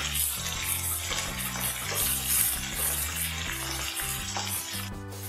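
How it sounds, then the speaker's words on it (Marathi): Ingredients for coriander rice are browned in a pan, with a continuous frying sizzle and stirring heard close up beneath louder background music. "आता हे चांगलं परतून घेऊया. 2 ते 3 मिनिटं लागणार आहेत चांगले थोडेसे ब्राऊन होऊ द्यायचे."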